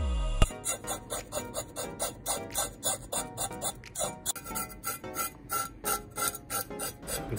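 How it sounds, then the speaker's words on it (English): A Japanese knife scrapes scales off a horse mackerel near the fin, giving a rapid series of close, crisp rasping strokes in an even rhythm, heard alone. "It's a little difficult to scrape scales around the fin, so use the edge of your blade."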